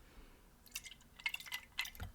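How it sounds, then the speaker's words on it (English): Water sloshes inside a thermos in a few soft, faint bursts of liquid swishing and dripping, close up in a quiet setting. "currently got some water in here, so got some liquid sounds"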